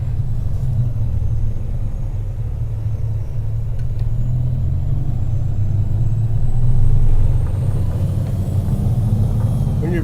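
Inside a car driving on Arizona roads, a loud, steady low engine and road rumble that swells slightly midway, with no voices.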